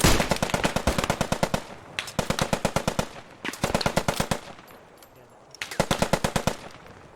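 Rapid automatic rifle gunfire from the video game Post Scriptum, loud and close, in four sustained bursts of evenly spaced shots with brief pauses between them, no talking over it.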